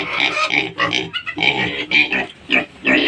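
Farm pigs that are up for sale grunt repeatedly and loudly at close range in short, irregular bursts, with no talking.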